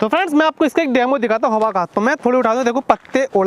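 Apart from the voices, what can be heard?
No everyday noise stands out behind the speech.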